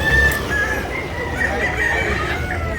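A rooster crows amid the bustle of a chicken market in Consolacion, northern Cebu, its call rising over steady crowd noise with clucking fowl nearby.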